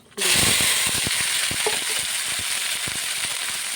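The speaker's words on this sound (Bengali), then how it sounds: "তো দুটো শুকনো লঙ্কা ভেজে নেব, একটি তেজপাতা, পাঁচফোড়ন" Dried red chilies, a bay leaf and five-spice seeds frying in hot oil, a loud, steady sizzle that bursts in suddenly and keeps going with scattered pops and crackles.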